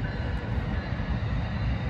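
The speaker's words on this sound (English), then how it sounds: "We got a train going by." A train passing nearby gives a continuous, even rumbling roar with broadband rail noise that holds steady throughout, and no talk is heard.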